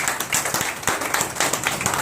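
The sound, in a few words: audience applause for the mothers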